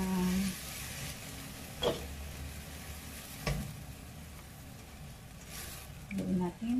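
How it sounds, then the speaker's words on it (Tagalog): Mixed vegetables being stir-fried in a pan, a soft steady sizzle with a few sharp clatters of the utensil against the pan, while a person talks quietly over it now and then. "Haluin natin ang ating isang gulay."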